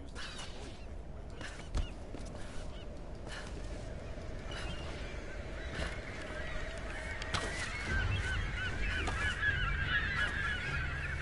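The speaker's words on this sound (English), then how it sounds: "Lots of seagulls. They're very loud." Seagulls in Tomb Raider (2013) give repeated honking, squawking calls over a low ambient hum, growing louder and busier in the last few seconds.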